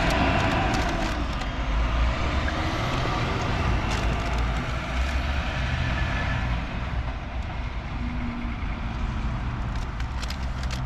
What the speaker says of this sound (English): There go the trucks.